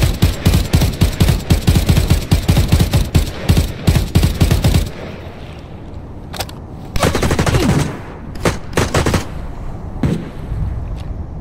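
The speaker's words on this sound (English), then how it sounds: "I just hit him with a Mosin" Gunfire in the shooter game Arena Breakout Infinite, including a Mosin rifle, opens with a loud, rapid barrage of close shots. After a pause, scattered bursts and single cracks follow.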